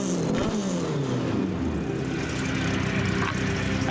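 A Volkswagen Beetle fitted with a race engine revs hard and very loud, its roar rising and sustained close by across the whole stretch, with a few exclamations mixed in.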